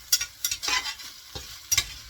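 Pre-cooked hamburger meatball pieces warm in a pan with a faint sizzle, broken by a few quick spatula scrapes and clicks over about two seconds, close and quiet.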